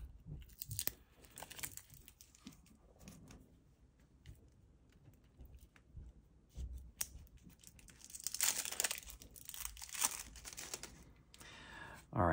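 Double-layered plastic wrapping around Creature Caravan game cards crinkles and tears in bursts during an unboxing. The rustling is close and intermittent, grows busier and louder toward the end, and someone talks between the handling noises.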